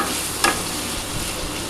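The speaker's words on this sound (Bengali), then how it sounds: "আমি কিন্তু একটু ঢাকা দিয়ে ভাজছি," Potatoes fry under a lid in a covered pan, giving a constant muffled sizzle with one brief metallic tap partway through.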